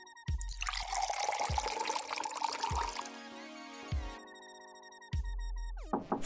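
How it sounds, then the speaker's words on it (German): Soy sauce poured into an empty cola bottle, a liquid pour with trickling and dripping in bursts, interrupted by several soft thuds and a brief rising tone near the end, close and fairly quiet. "Gieß zuerst Sojasauce in eine leere Cola-Flasche."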